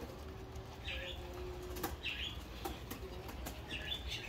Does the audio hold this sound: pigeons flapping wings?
yes